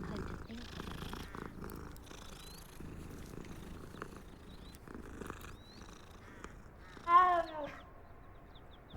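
Cat in the Hogwarts Legacy game, purring softly and continuously at close range, with a brief louder meow-like call near the end and someone talking over it.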